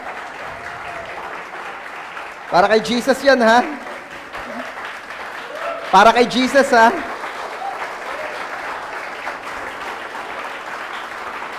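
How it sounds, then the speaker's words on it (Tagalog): A congregation at a Sunday church service keeps up steady applause for Jesus as a pastor speaks briefly over it in two short bursts. "Palakpakan natin si Jesus. Yung pong the best na palakpak."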